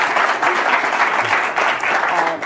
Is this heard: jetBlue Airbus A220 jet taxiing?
no